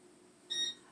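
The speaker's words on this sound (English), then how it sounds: "I had to set the alarm so that you're going to hear that in the background." An alarm gives a single short electronic beep in the background, brief and fairly faint against a quiet room.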